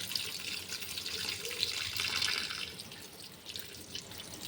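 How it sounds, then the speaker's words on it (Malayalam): Tap water running steadily into a sink while chicken pieces are washed one at a time, a close, continuous splashing hiss with small changes as the flow hits the meat. "ഞാൻ ചിക്കന് ഇങ്ങനെ ഓരോന്നായിട്ട് കഴുകിയെടുക്കാം"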